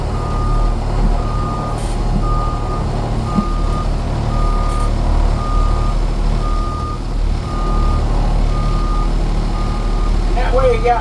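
A 2008 Thomas EF school bus backs into its parking spot, its reversing alarm beeping steadily about every half second over a loud, constant diesel idle rumble, with brief noises near the end.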